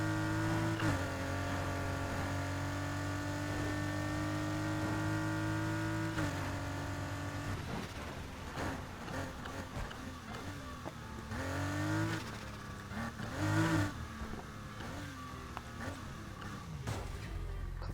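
A Fairlady 240Z's engine drones steadily while driving in Need For Speed Heat, its pitch dipping at gear shifts and rising again with throttle, loud and continuous throughout.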